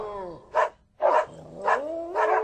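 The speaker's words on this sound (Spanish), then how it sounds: "¡Otra vez esos malditos perros!" Several dogs bark in separate loud bursts, about four barks in a couple of seconds, with a low growl between them, close by and with no talk.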